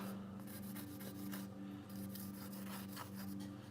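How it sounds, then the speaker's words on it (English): Charcoal being rubbed on paper to shade a drawing: a close, soft, continuous scratchy rubbing in quick back-and-forth strokes over a low background hum. "Because with charcoal, you can just rub it."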